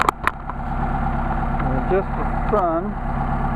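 A car engine on Solex 44PHH carburetors idles at about 900 rpm with a steady low rumble, while someone speaks over it close by.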